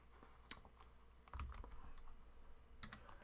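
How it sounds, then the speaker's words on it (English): Typing on a computer keyboard, a few scattered key clicks followed by a short burst of keystrokes, close and fairly quiet with faint room noise and no talking. "I'll just actually type that in."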